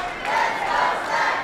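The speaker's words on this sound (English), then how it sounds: "Listen to this crowd, David." Loud, steady roar of a wrestling crowd cheering for a fan-favorite wrestler at a Women Of Wrestling tag match in the Belasco Theater, a dense continuous wall of voices with no single speaker.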